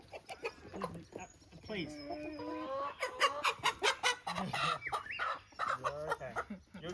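Backyard chickens, both older and younger birds, cluck and call in a busy flock close by, with overlapping irregular bursts and brief human speech mixed in.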